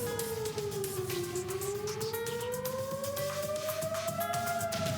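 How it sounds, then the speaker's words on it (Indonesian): An air raid siren wails over Tel Aviv during an Iranian missile attack, rising and falling slowly and steadily, loud and continuous, with a faint second tone and some background noise. "Suara sirine menggema di Tel Aviv saat pertahanan udara Zionis mencegat rudal Iran pada Jumat siang."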